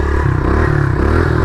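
Pit bike with a broken clutch, engine held at a steady, loud drone as the rider tries a wheelie, with a rough rattling edge and no talk over it.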